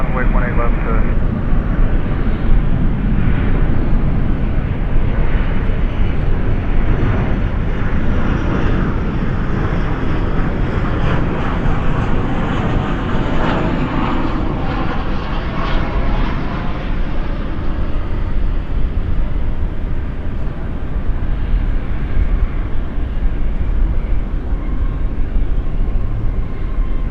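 A heavy airliner takes off at night at Dallas/Fort Worth airport, bound for Istanbul, its engines a loud, steady roar that holds through the whole stretch, with someone speaking over it.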